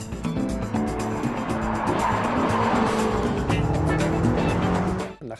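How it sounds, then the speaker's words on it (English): A BMW X6 M high-performance SUV with an 8-cylinder engine roars loudly and steadily, with squealing tires and skidding sounds over the sustained engine noise, cutting off abruptly at the end. "the roar of the BMW X6 M's 8-cylinder high-performance engine"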